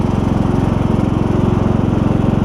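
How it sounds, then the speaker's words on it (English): A John Deere LA100 5-speed lawn tractor runs steadily up close as its drive belt engages. The engine gives a loud, even, rapidly pulsing drone throughout. "You can hear the belt firmly engage."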